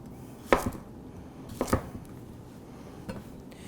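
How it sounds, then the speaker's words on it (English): A chef's knife slicing vegetables on a cutting board, three sharp chopping strikes spaced about a second apart, the last one softer, with no talking. "Finish slicing this up."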